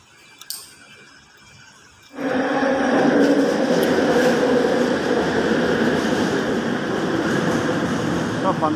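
Metro train on an urban rail line in Kuala Lumpur pulling into a station: quiet platform first, then a sudden loud, steady rumble and rising hiss of the arriving cars that holds to the end, with faint voices at the start.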